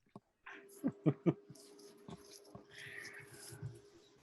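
A dog gives three short, close whimpering whines in quick succession, then quieter low snuffling and faint whiny noises trail off.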